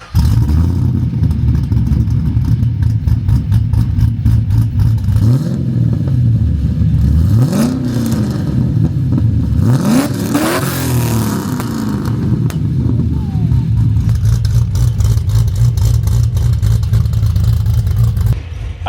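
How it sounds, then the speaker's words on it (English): A cammed LS3 V8 in a side-by-side build barks to life and settles into a loud, lumpy, choppy idle, with repeated sharp revs rising and falling near the middle, close and continuous throughout. "start this up and we're going to hear it, because, yeah, I mean, why wouldn't you? It's an LS3 that's been cammed"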